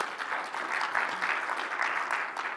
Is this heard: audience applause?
yes